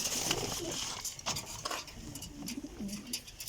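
Sialkoti pigeons coo softly in a loft, with low murmuring calls and flutters close by, a faint clink of dishes in the background, no talk.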